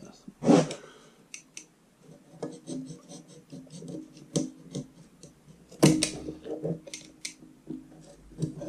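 A new flat leather belt for a lathe being cut with shears, irregular close crunching snips and rubbing scrapes with two sharper bursts, someone talking quietly between cuts.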